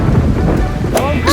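Loud rain pours throughout while thunder rumbles, capped by a sharp crack and rolling boom near the end, no speech on top.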